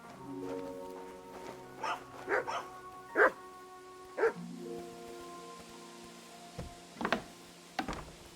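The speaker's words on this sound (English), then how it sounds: "Who are you barking at?" Dog barking in the medieval role-playing game Kingdom Come: Deliverance II, a series of separate barks and yips of varying strength, some close together in pairs, over a low, steady game ambience with no talk.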